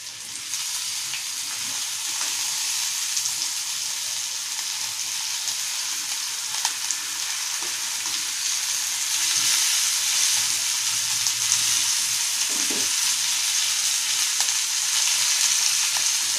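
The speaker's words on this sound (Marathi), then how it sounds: "आता आपली मांदेली तव्यावर टाकून झालेली आहे. आपण थोडा गॅस वाढवायचा" Mandeli fish frying in oil on a flat pan over the gas, giving a steady, loud, hissing sizzle with no break, swelling slightly toward the end and heard close up with no talking.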